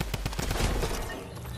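A drum gun firing in a video game, a rapid burst of about eight evenly spaced shots that trails off into a brief noisy tail.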